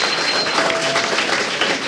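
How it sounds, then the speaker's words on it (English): An audience at a live StarCraft 2 esports match claps in a dense, steady burst of applause that stays fairly loud for the whole moment without a clear build or fade. "There was some clapping there."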